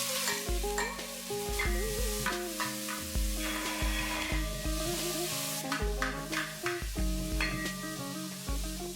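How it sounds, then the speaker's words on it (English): Chopped onions sauté in melted ghee, sizzling steadily close up while a spoon stirs and scrapes the pan in repeated bursts. "I'm going to add this and I'm going to saute it till it's soft and pink."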